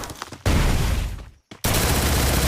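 A SCAR rifle fires in a mobile battle-royale shooting game as loud, dense automatic bursts, with one burst, a short near-silent gap, then another sustained burst.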